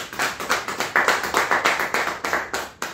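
Church congregation clapping for the Lord at a special apostolic consecration service, steady rhythmic hand claps in regular pulses, close and fairly loud, with no talking.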